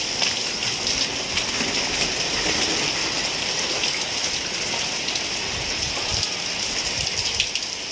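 Heavy monsoon rain pours down in Chiplun, a loud, dense and steady hiss of drops drumming on surfaces nearby, continuous throughout with no voices.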